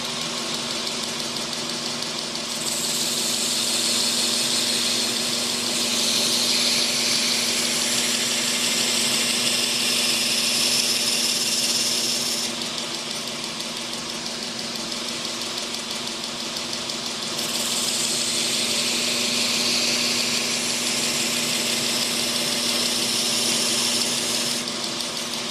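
A belt grinder's wheel hollow-grinds a knife blade. A steady motor hum runs throughout, broken by two long stretches of harsh, hissing grinding as the blade is rolled across the wheel face. No talking.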